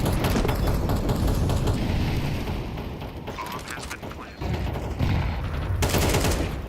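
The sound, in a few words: gunfire in Counter-Strike video game match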